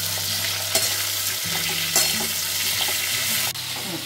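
Potatoes and drumstick pieces sizzle steadily as they fry in a pan, with scraping stirring strokes breaking in at intervals, close and fairly loud throughout.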